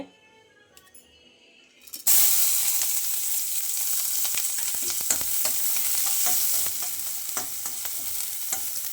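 Green chillies, cinnamon, cloves, cardamom and a small onion dropped into hot oil for mutton gravy, quiet clinks for two seconds then a sudden loud, sustained sizzle with crackling pops and stirring.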